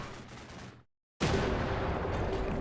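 A tank gun fires in Combat Mission: Black Sea, the blast hitting hard and loud after a short silence, then a dense roar that holds steady to the end, with earlier battle noise fading out before the shot.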